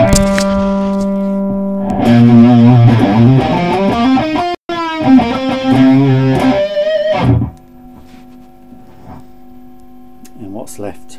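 Electric guitar played through a buzzy Fuzz Face fuzz effect via a Carl Martin Octa-Switch MK3, sustained distorted notes and chords, loud and close, then a quieter held tone near the end.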